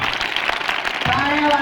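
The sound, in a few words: audience applause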